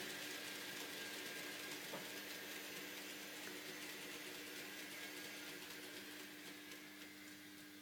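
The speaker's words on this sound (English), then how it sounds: "We'll just let that freight train go through." A continuous mechanical rumble and whir of a small model freight train running steadily through a loop line on a layout, fairly close and constant throughout.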